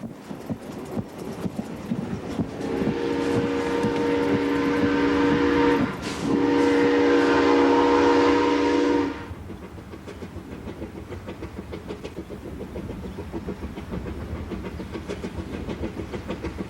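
A steam train rumbles steadily along the tracks as a loud horn blasts for a few seconds, briefly breaks, then sounds again before the rumble carries on.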